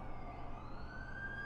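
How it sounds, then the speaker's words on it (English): An ambulance siren in the PS4 game The Amazing Spider-Man 2 wails in a rising tone over faint background rumble, fairly distant and without talk. "That's the ambulance I called."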